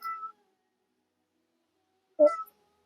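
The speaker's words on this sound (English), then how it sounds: "My cat says hello." A pet cat meows twice, short, close-up calls separated by about two seconds of silence in a quiet room.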